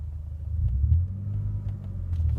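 A car engine rumbles and revs during a manual-transmission driving lesson, a low steady drone that swells slightly mid-way, heard close up with no talk.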